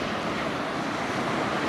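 Sea surf washes steadily around a fishing kayak, an AMBER KOI 13.5, out on the sea: a broad, continuous hiss of breaking waves with some wind buffeting, fairly soft and with no voices.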